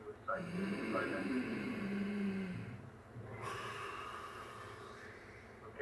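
A throaty breathing sound, rasping and snore-like, runs close and fairly loud through the whole stretch with a brief dip in the middle, as a person breathes in against resistance during a breathing exercise.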